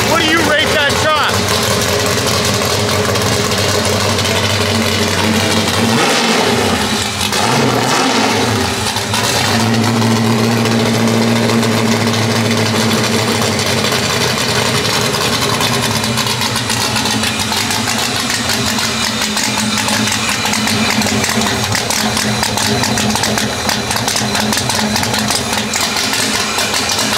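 A 2014 VW Beetle Baja Bug engine idles steadily and loudly at close range, with a brief rev partway through, while people talk over it.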